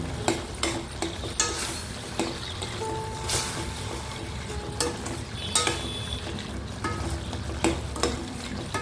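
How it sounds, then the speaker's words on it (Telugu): Spinach curry seasoned with turmeric and chili powder being stirred in a pan, with a steady frying sizzle under repeated scraping and clinking strokes of a spoon against the metal, close and moderately loud. "ఒకసారి తిప్పుకున్నాం"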